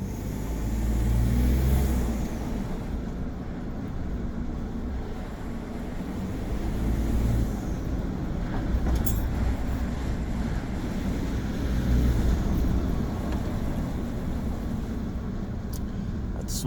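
Ford F-150 EcoBoost with stock intake silencers driving with the windows down: a steady, low engine and intake drone blended into loud road rumble and wind rush, with no talking.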